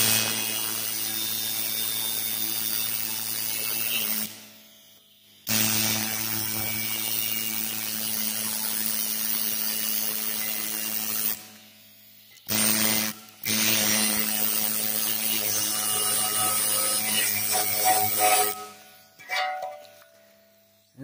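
A Harbor Freight air-powered scraper strips caked-on grime with a steady pneumatic buzz that stops and restarts in a few long runs, loud and close, with no talk.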